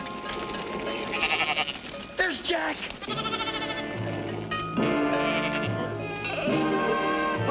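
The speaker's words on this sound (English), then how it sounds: "She has her nerve herding her sheep across our lawn" Sheep bleat repeatedly as they are herded across a lawn, several overlapping wavering calls close by, while people talk over them.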